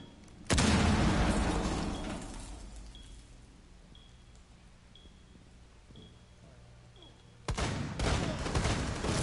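A breach charge blasts in a tactical shooter video game: a loud explosive boom at the start that slowly decays into a rumbling tail, with faint beeps in the lull, then a second burst of heavy blast and gunfire noise near the end.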